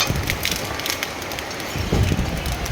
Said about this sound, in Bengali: প্রচণ্ড বৃষ্টিও আরম্ভ হয়ে গেছে